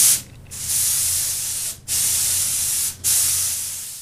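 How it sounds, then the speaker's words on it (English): Two-part polyurethane gloss is sprayed onto a musky fish replica in three steady hissing bursts separated by brief pauses, close and clear with no talk. "The very last step then is applying a gloss. I'm using a two-part polyurethane."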